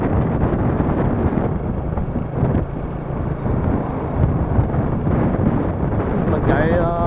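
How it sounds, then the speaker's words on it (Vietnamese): Strong wind roars and buffets against the microphone while a motorbike rides at about 40 past open, empty green rice fields near Đất Đỏ town in Bà Rịa–Vũng Tàu, a steady loud rumble throughout with a voice faintly underneath. "khu vực này rất là trống, gió nhiều lắm."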